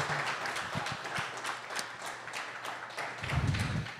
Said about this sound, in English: if we could all just give them a round of applause for having us use their venue